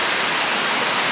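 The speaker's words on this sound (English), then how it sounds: "and it has started raining" Steady rain pours down outdoors at a botanical garden on Eden Island in the Seychelles, a dense, even hiss that fills the short moment close by with no voices.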